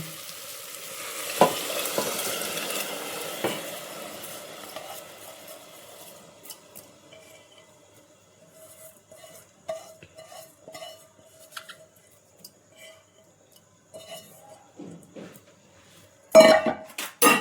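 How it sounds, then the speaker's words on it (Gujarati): Soaked khichdi rice tipped into sizzling spices in a pan for Kathiyawadi vaghareli khichdi, with close frying crackle, scraping stirs and metal utensil clinks that fade to quieter intermittent stirring, then a sharp clatter near the end. "હવે આપણે નાખી દઈએ એમાં આ પલાળેલી ખીચડી છે ને"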